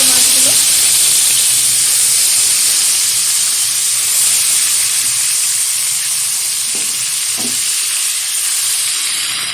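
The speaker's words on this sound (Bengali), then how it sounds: "এবার উল্টে পাল্টে লাল লাল করে ভেজে নিচ্ছি মাছগুলো।" Rohu fish pieces frying in hot oil, a loud, continuous bubbling sizzle that stays dense and steady throughout, with a few faint clinks of the turning utensil.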